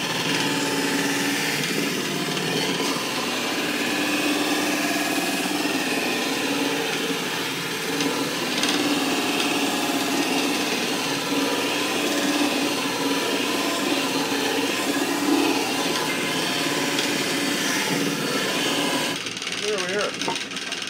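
Homemade disk sander driven by a light-duty motor grinds a chunk of birch wood, a steady loud whirring hum with broadband sanding hiss running throughout, with a slight change near the end.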